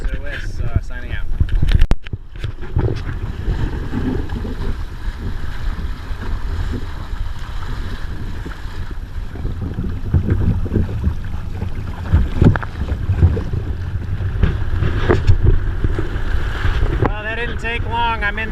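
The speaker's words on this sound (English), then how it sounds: "I'm in the open and it's blowing like stink." Strong open-water wind roars across the microphone on a sea kayak with a reefed sail during a Florida coastal race, gusting steadily at about 15 knots, with water sloshing and a voice talking over the rush.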